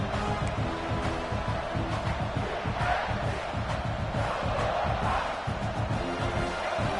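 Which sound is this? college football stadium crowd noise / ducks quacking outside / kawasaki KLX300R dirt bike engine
college football stadium crowd noise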